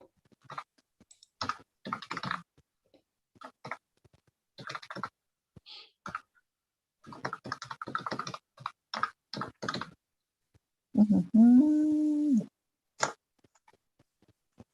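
Scattered bursts of keys on a computer keyboard during an online information session, soft quick clicks in uneven clusters, with a short electronic tone rising and falling near the end.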